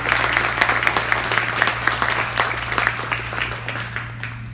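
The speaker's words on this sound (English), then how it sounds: "May I request a round of applause for our esteemed guest of honor" An audience at a concert applauds a guest of honor with loud, dense clapping over a low steady electrical hum, tapering slightly near the end.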